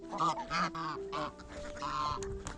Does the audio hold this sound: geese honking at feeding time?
yes